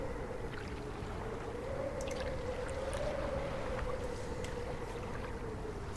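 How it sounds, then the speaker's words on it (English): Waves lap against the side of a boat in a steady, continuous wash of water noise with faint splashes and a low wind-like hum, ambient and unbroken. "waves hitting the side of the boat"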